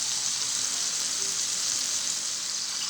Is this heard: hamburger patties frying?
yes